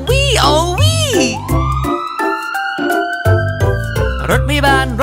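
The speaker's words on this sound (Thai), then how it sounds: "รถดับเพลิงไปถึงที่เกิดเหตุฟังเสียงกำลังดังวี่โอวี" A fire truck siren wails in rising and falling sweeps, loud and close, within a children's learning song, with singing voices over and around it.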